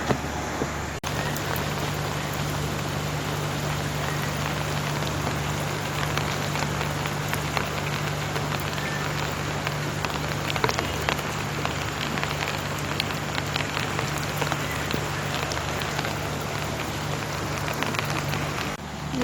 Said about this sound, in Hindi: और बहुत ज़बरदस्ती बारिश हो रही है।